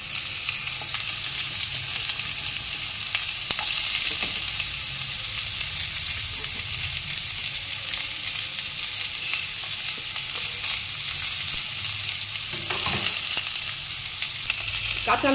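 Chopped onion sizzles steadily in a pan of hot oil alongside peanuts, a continuous close frying hiss with occasional stirring scrapes, no talking.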